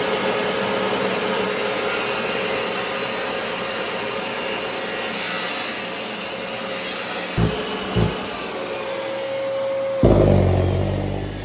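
A saw cuts through LVP luxury vinyl plank flooring with a loud, steady, close whine and rasp lasting about seven seconds, followed by a few thumps, a brief spin-down tone and a clatter at the end; no talk.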